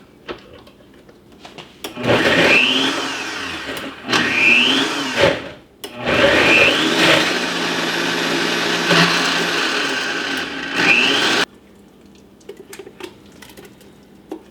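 Blender roughly chopping cranberries and strawberries for jam, running in several loud pulses of whirring motor and churning fruit separated by brief pauses; close, then the motor cuts off and quiet follows.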